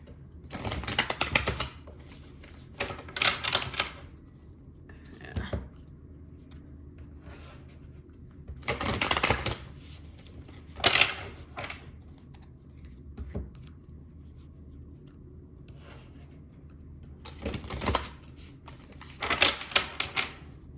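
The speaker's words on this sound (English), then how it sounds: "I'm gonna get to shuffling now" Tarot cards riffled and shuffled in intermittent bursts of papery rustling and flicking, close up, with quiet pauses between rounds.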